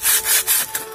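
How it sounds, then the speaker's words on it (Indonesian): Fine paper sandpaper rubbed by hand across a BMW E90 engine part during an overheating repair, three quick close strokes of dry rasping scratch. "diamplas menggunakan amplas halus, menggunakan amplas kertas"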